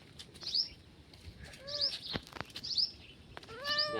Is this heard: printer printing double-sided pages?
no